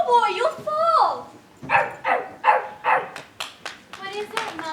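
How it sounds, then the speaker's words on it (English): On a theatre stage, a dog barks in a loud, close run of about eight sharp, tonal barks, a couple of longer yelping calls first and then shorter, quicker barks. "Why is Nana barking?"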